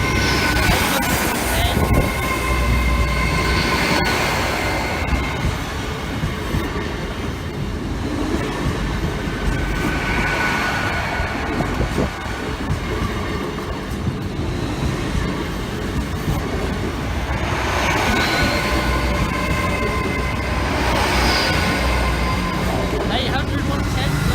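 A London to Leeds train passes, its wheels rumbling and clattering along the rails with recurring swells of rolling noise as carriages go by, heard under someone talking nearby.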